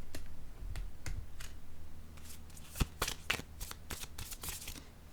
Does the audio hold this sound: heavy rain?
no